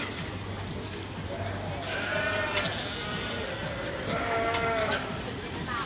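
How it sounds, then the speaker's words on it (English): Sheep bleating in livestock pens at the Royal Norfolk Show, an agricultural show, with several drawn-out calls rising over steady crowd murmur and background chatter. "Now we come on to the sheep."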